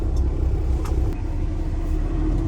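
A 2016 Peterbilt 389 truck engine runs steadily in 11th gear, a loud, smooth low rumble heard from inside the cab with no speech.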